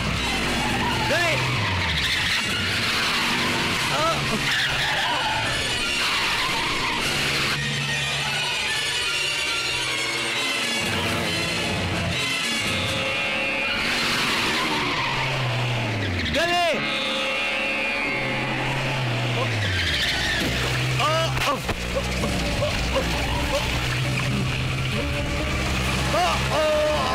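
A car skids to a stop during a Hindi-dubbed action movie scene, with tyres squealing and an engine roaring over loud, busy action noise, while voices shout urgently throughout.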